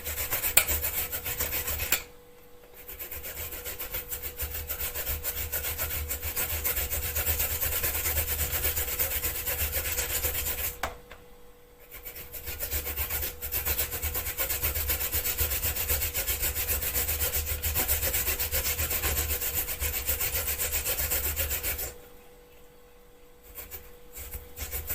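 Carrots are grated on a blunt kitchen grater, a close, steady rasping scrape in two long continuous runs broken by brief pauses, with no voices.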